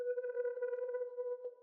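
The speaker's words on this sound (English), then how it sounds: "I added this like synth sound" A synth tone is layered onto a soulful downsampled music sample in a hip-hop production, a sustained mellow tone with a steady fluttering pulse that holds for over a second, then cuts off.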